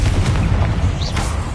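The Confringo explosive spell goes off in Hogwarts Legacy, a loud, dense boom with a rumbling low-end blast that fills the short moment.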